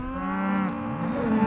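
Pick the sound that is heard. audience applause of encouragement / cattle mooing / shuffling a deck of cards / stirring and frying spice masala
cattle mooing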